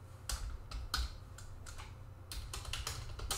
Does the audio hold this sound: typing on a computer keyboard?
yes